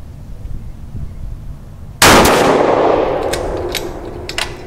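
A single sharp, loud rifle shot from an X-Caliber 6XC carbon-barrel rifle on a 100-yard range cracks out after quiet ambient noise, followed by a long decaying echo and a few faint clicks.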